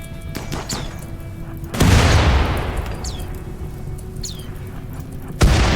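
Doomsday rocket launcher fired in RimWorld: a single loud booming blast erupts suddenly and rolls off in a long roar, followed by another sharp impact near the end, over a steady game background.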